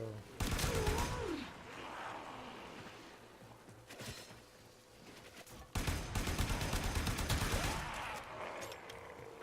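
Gunfire in the Warframe video game: rapid bursts of automatic fire crackle in two long volleys, separated by a short sharp shot and quieter stretches.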